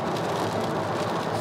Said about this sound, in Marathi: पाऊस जास्त लागतोय.